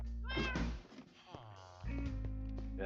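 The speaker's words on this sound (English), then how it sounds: "Hannah, I've become a crazy cat lady, but in Minecraft only. Here's some more cats" Cats meow repeatedly in Minecraft, several overlapping, drawn-out mews with harmonic tones, fairly faint over a steady low game background.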